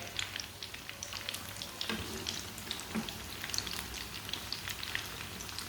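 Chicken tikki patties browning in a hot pan give a steady, close crackling sizzle with scattered sharp pops throughout, and no voices.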